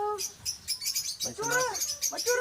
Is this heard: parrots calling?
yes